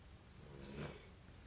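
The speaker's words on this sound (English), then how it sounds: "She's snoring. She's congested." Soft snoring of a congested baby, a faint single nasal snore rising and fading over a quiet background, heard through a monitor.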